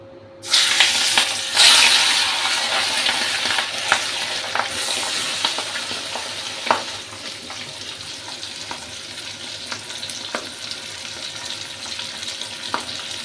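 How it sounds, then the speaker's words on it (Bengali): Fish pieces coated with salt and turmeric fry in a hot pan, a steady loud sizzle and spatter that swells at the start and then settles into a continuous crackling hiss, with a few sharp pops throughout and no talking. "এখন মাছগুলোকে ভেজে নেব"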